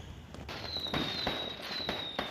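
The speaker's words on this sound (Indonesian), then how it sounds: "banyak pengendara berhenti dan memarkir kendaraannya untuk menyaksikan pesta kembang api" New Year fireworks exploding over a celebration in Papua, Indonesia, where roadside crowds stopped to watch: several sharp bangs and crackles in quick succession, moderately loud and a little distant, with a thin whistle drawn out between the bursts.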